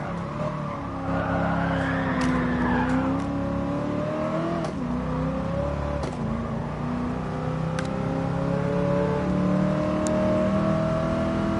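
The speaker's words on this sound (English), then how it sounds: "We are about to max the car out." Mercedes-AMG Black Series car driven flat out on the Nürburgring, its engine droning steadily at high revs with rising and falling pitch through gear changes and tire noise, continuous and close for the whole stretch.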